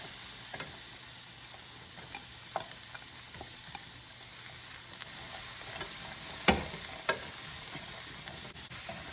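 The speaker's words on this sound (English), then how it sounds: "So I'll just fry the vegetables for a while" Cabbage and carrot frying in a pan, a soft, even sizzle with faint scattered stirring clicks and one louder knock, quiet and steady without speech.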